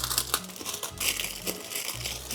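Plastic packaging from a boxed SNES game crinkles and crackles loudly and continuously up close as it is opened by hand, with no voices.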